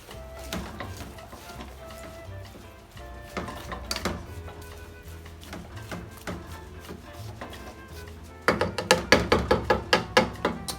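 Vegetables for Antiguan pepperpot are stirred in a pot, with scattered clunks and scrapes at first, then a fast run of sharp knocking spoon-on-pot hits near the end, close and fairly loud.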